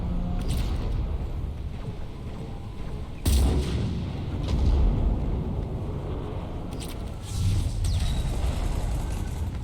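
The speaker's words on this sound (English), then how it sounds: "Way too many shooting around me." Heavy gunfire rattles through a firefight in the game Mass Effect 3, with dense overlapping shots and booming heavy-weapon blasts that surge at several moments across the stretch.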